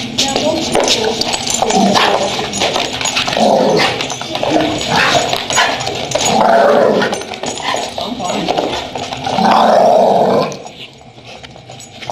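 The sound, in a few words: puppy growling raspily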